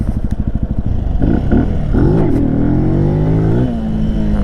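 A Benelli TNT 135 motorcycle revs loudly and close, the engine note pulsing at idle, then rising and falling through several throttle blips in a steady, continuous drone with no talk.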